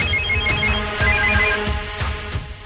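An incoming-call ringtone on a phone rings in a steady repeating melodic pattern of bright tones, close and fairly loud, with no voices over it.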